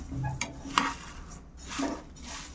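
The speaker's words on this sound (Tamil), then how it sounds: "நிதானமாக வறுக்கணும். இது நல்லா வறுத்தா தான்" A spoon stirring multigrain health mix as it dry roasts in a pan, light scraping and a few metallic taps, close and quiet, with no talk.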